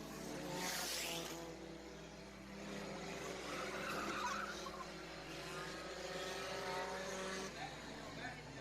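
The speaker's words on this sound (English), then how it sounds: "Somebody's brakes work real good." A late model race car brakes hard on a dirt track, its skidding tires and engine noise forming a steady, distant roar under a race announcer's commentary.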